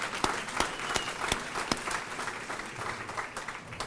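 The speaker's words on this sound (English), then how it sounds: "Give them a round of applause real quick." Audience at a neighborhood conference applauding, a dense burst of close, sharp handclaps that thins and fades over a few seconds.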